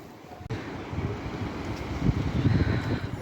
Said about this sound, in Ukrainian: Ще й вітер такий прилічний.